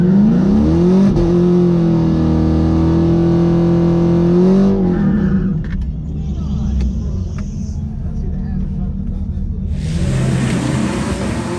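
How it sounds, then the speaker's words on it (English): Cars at a drag strip at Orlando Speed World, with a loud revving engine that rises and falls in pitch before easing into a rumbling idle and a renewed roar, all close and dominant. "Bunch of cars ready to race."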